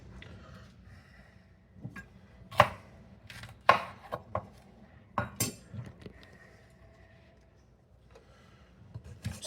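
A jalapeno for fresh salsa is chopped in a slap chop: a series of sharp, close plastic slaps and clacks, irregularly spaced, with faint rattling between strikes and no talking.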